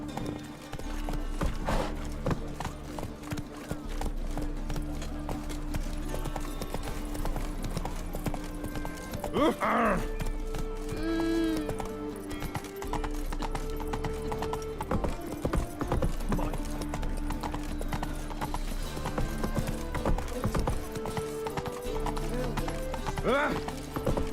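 The horse Roach gallops in The Witcher 3, a steady rapid clip-clop of hooves carrying through the whole stretch beneath game music, with a brief whinny partway through.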